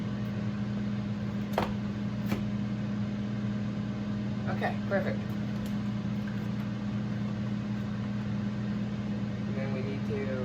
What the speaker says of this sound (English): then we need to put it into the microwave.